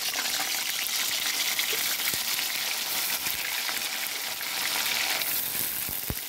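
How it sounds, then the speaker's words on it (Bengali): Paneer pieces sizzle and crackle steadily in hot oil, a dense, even frying hiss with occasional pops and no talking. "তেল গরম হয়ে গেছে, এখন আমি পনিরগুলো দেব।"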